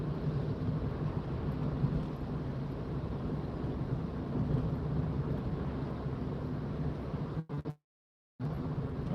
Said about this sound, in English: Definitely a little bit more rain.